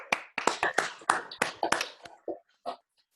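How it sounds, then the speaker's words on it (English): Scattered hand clapping from a small audience at a live talk event, a burst of uneven claps that thins out into a few isolated claps before falling silent. "Let's do another round of applause."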